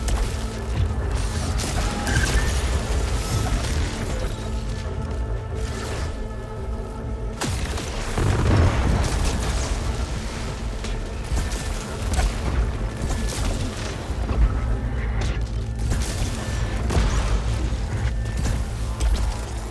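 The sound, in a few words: rocket launcher explosions in video game Returnal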